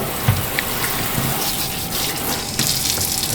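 Tap water runs steadily into a sink, rinsing raw chicken wings, with a continuous close splashing flow and small splatter bursts.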